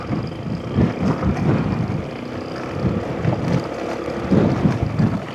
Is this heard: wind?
yes